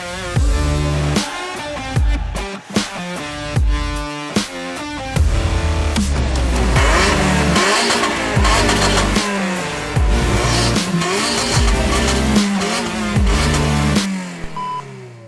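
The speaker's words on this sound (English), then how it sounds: "today I'm here with Hyundai's Kona N, their first ever performance crossover" A Hyundai Kona N turbocharged performance crossover with front-wheel drive revs and accelerates hard, its engine note rising and falling through repeated gear changes, loud and close with no voices.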